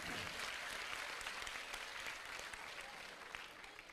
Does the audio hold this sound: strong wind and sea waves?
no